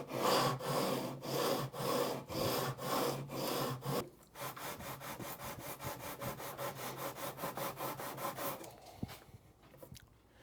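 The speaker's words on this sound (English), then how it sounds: "for the actual sanding part, I will use a straight beam with 240 grit sandpaper on one side" Guitar frets being sanded with 240 grit sandpaper on a straight beam, a rhythmic rasping of back-and-forth strokes, loud and close at first, then quicker, lighter strokes before fading.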